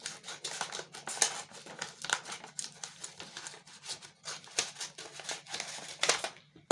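Scissors cutting a paper skirt pattern to slit out the zip allowance, a close series of crisp snips and rustling paper strokes coming in an irregular rhythm.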